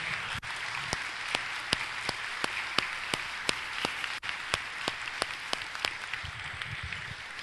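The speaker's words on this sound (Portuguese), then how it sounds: "queria que a igreja desse uma grande salva de palmas para esses irmãos" A church congregation claps for its deacons, heard as faint, evenly spaced sharp claps that keep a steady beat in a quiet room.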